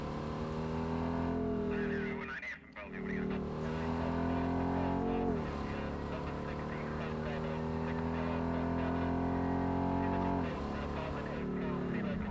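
A police car engine in the video game Cyberpunk 2077 drones loudly throughout, with pitch shifts as it changes gear, a brief dip near the start, no talking.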